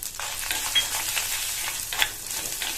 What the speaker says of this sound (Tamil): எல்லாத்தையும் வறுத்துக்கலாம்